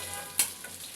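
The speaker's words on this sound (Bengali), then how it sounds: "এই তেলের সাথেই আমি বন্ধুরা এই পেঁয়াজটা ভাজা নেবো হালকা করে" Two onions fry lightly in hot oil left over from frying for a beef dish, giving a faint, steady sizzle with one brief, sharper crackle near the start.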